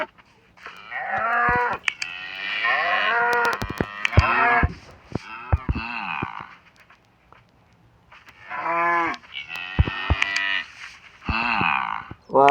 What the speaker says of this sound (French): On a ici une petite ferme à vaches